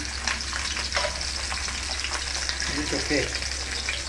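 Food frying and being stirred in a pan, a steady close sizzle with scraping stir strokes, while a person speaks briefly over it.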